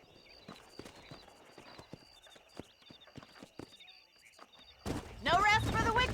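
Horse hooves clip-clop in a steady walking rhythm in the Western video game Red Dead Redemption, faint and evenly spaced, before a louder, harsher burst of horse or voice sound takes over at the end.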